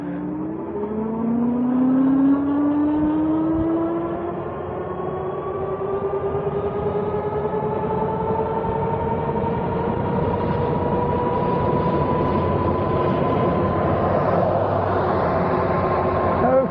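A Polarna e-bike running on throttle alone gives a steady motor whine that climbs smoothly in pitch as it speeds up. Wind and road rumble sit beneath it, close and continuous.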